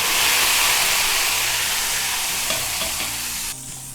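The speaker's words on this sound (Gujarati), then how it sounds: "હવે તેમાં ટોમેટાની પેસ્ટ નાખીશું" Tomato paste going into frying garlic and chili paste while it is stirred: a loud, hissing sizzle that fades gradually, a few soft scraping knocks, then a sudden drop to a quieter simmer near the end.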